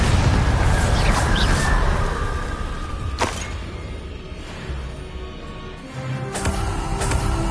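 A Bombarda explosion spell goes off in the Hogwarts Legacy video game, a loud booming blast with rumbling debris that stays dense and heavy throughout, with a sharp crack near the middle.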